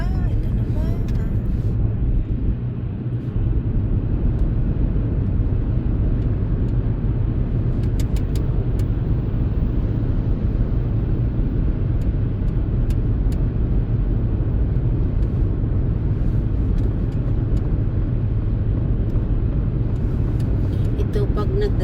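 A car cruises along a highway with a steady, loud engine and road rumble that holds evenly from start to finish, while people talk inside the cabin over it.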